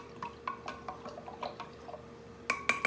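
Light clinking and tapping of a utensil against a glass jar while stirring water for kombucha, gentle liquid sloshing, irregular knocks with a couple of brighter clinks near the end.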